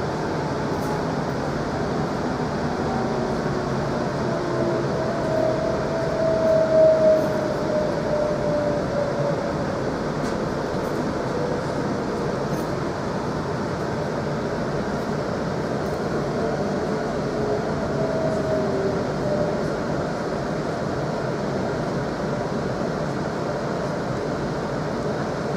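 ScotRail Class 334 Juniper electric train running toward Edinburgh Park, heard from inside as a steady continuous rumble and hum of the carriage with a faint whine, no talking.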